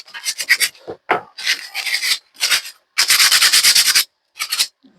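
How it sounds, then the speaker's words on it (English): Sandpaper rubs the rough edges of a wooden nest box built for spotted flycatchers or redstarts, producing loud, close, rasping strokes in separate bursts of about a second with short silent gaps between them. "I'm just going to get some sandpaper just to clean off these rough edges"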